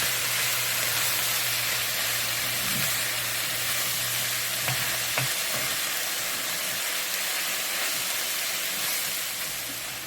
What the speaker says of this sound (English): you're going to allow the tomato to cook into there and melt down